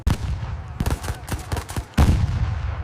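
Rifle fire from the WWI battle of Mons crackles in rapid, dense volleys, with sharp cracks bunched close together and a heavy burst near the end, loud and fast enough to suggest machine guns.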